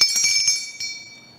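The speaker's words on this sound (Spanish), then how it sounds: "Suena la campana." A small handbell rung on a CNC Tuluá television programme gives a quick run of bright metallic strikes, then one more ding that fades into a short ringing decay.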